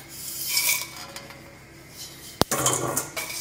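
Whole spices including mace, fennel, stone flower, fenugreek and cardamom tipped into a pan for Goan garam masala and stirred, giving scraping and soft rattling, a sharp metallic clink, then busier rustling stirring, close by.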